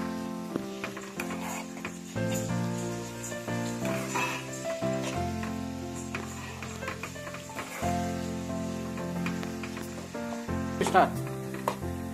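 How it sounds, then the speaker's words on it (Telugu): Grated beetroot frying in a pan gives a steady sizzle, with occasional stirring scrapes and clicks over background music; no one speaks. "అరెట్ తురుముకున్నాం కదండి, ఇది దోరగా వేయించుకోవాలి"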